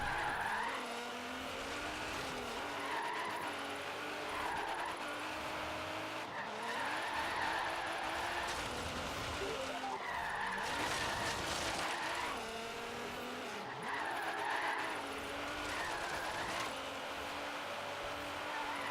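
A car drifting in Forza Horizon 3 with the e-brake pulled gives long, repeated tire squeals over a steady revving engine, the screeches swelling and fading in waves with no talk.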